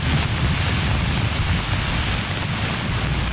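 Flash flood water after a cloudburst in the Bhagsunag area of Dharamshala, a dense, loud, continuous roar of rushing torrent filling the whole clip, steady and close with no voices.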